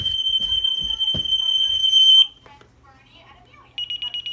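A house smoke alarm sounds a loud, steady high beep for about two seconds, then resumes with rapid pulsing beeps after a pause; bumps and handling noise accompany the first part.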